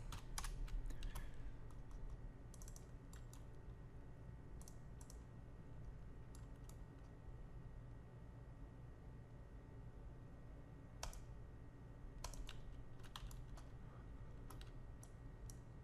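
Quiet, steady typing on a computer keyboard, with scattered bursts of clicking keys over a faint hum and no talk.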